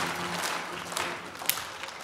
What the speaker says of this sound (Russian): давайте встретим его громкими аплодисментами